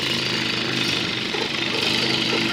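A voice imitates a jackhammer with a loud, continuous, rapid rattling buzz delivered close up and alone for a couple of seconds.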